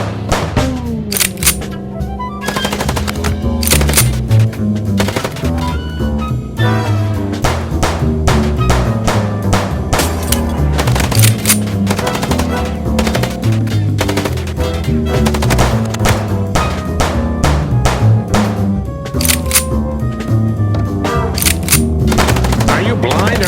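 Rapid bursts of automatic gunfire from the video game Chicken Police ring out loud and nearly continuous, with dense rattling volleys over a droning background score.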